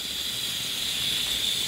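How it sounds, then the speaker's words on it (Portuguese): Small floured manjubinha fish fry in a pan on the largest burner of a stove, giving a steady, close, bright sizzling hiss with no pauses or talking. "Repara que eu tô fritando na boca maior do fogão"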